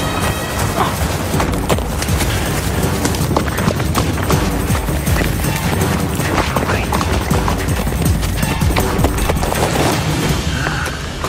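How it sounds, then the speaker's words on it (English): Dense, continuous clatter like hooves clip-clopping at a quick pace, loud and close, under a constant rough background noise. "Is that a horse?"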